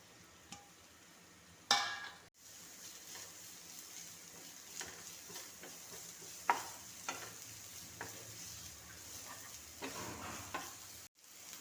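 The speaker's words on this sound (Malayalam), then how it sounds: "അപ്പോൾ നമുക്ക് ഈ ഒരു സവാള ഒന്ന് വഴറ്റിയെടുക്കാം" Sliced onion sautéing in a tablespoon of hot oil in a pan, a soft steady sizzle broken by occasional scrapes and clinks of stirring, with a sharper stir near the start and a brief pause near the end; no talking.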